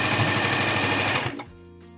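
A sewing machine stitches an eye mask with elastic in a steady, loud continuous whir for over a second, then stops abruptly, leaving a quiet room.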